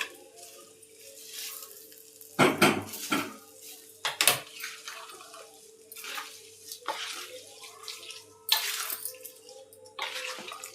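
Hot tempering of mustard seeds, fenugreek, garlic, dried red chilli and curry leaves poured into cauliflower pickle, heard as bursts of sizzling and crackling over clinks of metal utensils, close and moderately loud.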